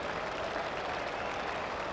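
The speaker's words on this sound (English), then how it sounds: "let's give her another applause" Crowd applause at an international winter sports competition, faint and distant, a steady wash of clapping with no voice over it.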